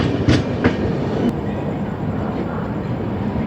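Secunderabad AC Superfast Express pulling into Guntur Junction station, a loud close rumble of rolling carriages with a few sharp clanks early on, steady throughout.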